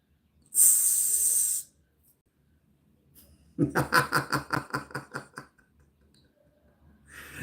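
A sharp, breathy hiss lasts about a second, followed after a pause by a quick run of clicking, rattling pulses that fade out.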